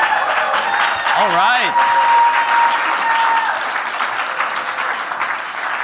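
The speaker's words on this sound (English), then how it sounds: "Standing ovation." Audience applause for Rajiv Patel at a community-management talk, a dense steady wash of clapping filling the whole stretch, with a cheer and a brief spoken remark over it early on.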